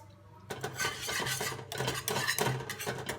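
A spoon scrapes and rasps around a cooking pot as cornstarch thickener is stirred into a sauce, a continuous close scraping with rhythmic swirls and slight surges, no talking.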